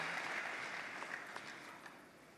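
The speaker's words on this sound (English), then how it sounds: "You can clap." Audience applause in a large conference hall at the AIPAC 2018 gathering, faint and distant steady clapping that slowly tapers off.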